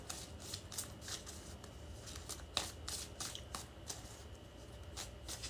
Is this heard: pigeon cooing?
no